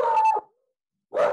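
A dog gives two sharp barks close by during an online author discussion, the barks separated by a brief silence.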